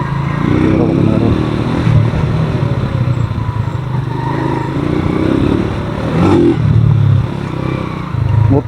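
A motorcycle engine rumbles close and loud while riding a mountain road from Baguio City through Itogon, Benguet, with shifting revs, rattles and wind noise throughout.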